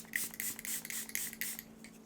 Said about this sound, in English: I absolutely love this spray so much. I'm going to do it all over my entire face